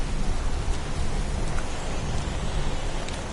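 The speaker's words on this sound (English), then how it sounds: "It's pouring rain." Pouring rain, a dense, steady hiss of heavy rainfall heard up close and alone, unbroken throughout.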